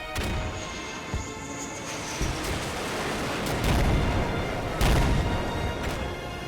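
Artillery shelling in the wargame Combat Mission, a dense, continuous rumble of explosions and gunfire with heavier booming impacts surging through, no talking.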